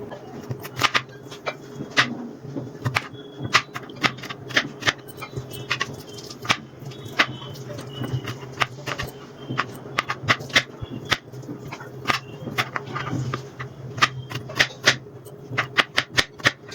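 A knife chops small raw mango into tiny pieces on a board, giving a long run of sharp, quick, close taps in an uneven rhythm with brief pauses, set against a faint steady background hum.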